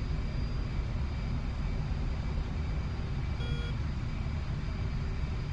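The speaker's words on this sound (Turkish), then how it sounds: "Oha, sese bak motoruna bunun." A jet aircraft engine in the DCS flight simulator roars as a loud, steady, broadband drone with a faint high whine running through it, continuous and unbroken throughout.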